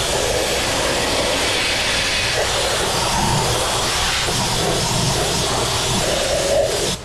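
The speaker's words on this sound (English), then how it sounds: "Oh yeah, brake clean pressure washer." A brake-clean pressure washer driven by a Pontiac GXP 5.3 V8 runs continuously, a loud, steady roar of engine and spray with no breaks throughout.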